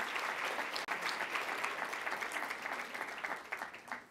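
An audience at a live conservative speech applauds steadily with dense, even clapping from a large crowd, heard continuously from start to finish.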